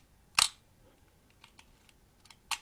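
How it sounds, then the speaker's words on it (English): A film camera being wound so its shutter resets: a sharp mechanical click, then a few faint ratcheting ticks of the winding lever, and a second crisp click, close and quiet with no talk. "when I wind the film, the shutter resets itself."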